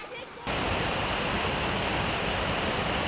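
A calm river flows in a steady, broad rush of water that starts abruptly after a short pause and then continues loud and unbroken.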